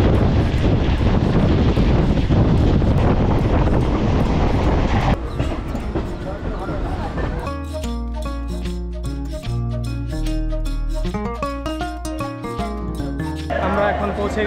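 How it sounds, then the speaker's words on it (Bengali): Local train running from Bangaon toward Sealdah rumbles loudly with wind buffeting, a continuous close roar that gives way to music playing over a fainter rail drone. "এখান থেকে মোট 24টি ট্রেন ছেড়ে যায় কলকাতার উদ্দেশ্যে"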